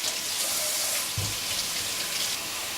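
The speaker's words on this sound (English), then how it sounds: "Wash the potatoes in hot water first." Tap water runs steadily into a kitchen sink as potatoes are washed under hot water, a loud continuous rush with a brief low bump of handling partway through.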